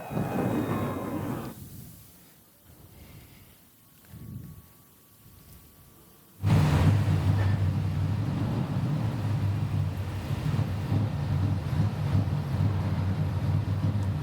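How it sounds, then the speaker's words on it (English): After a quiet stretch, several ARCA race car engines at Phoenix Raceway suddenly roar to life together and keep up a loud, steady rumble. "Oh, the sweet sounds of the engines firing."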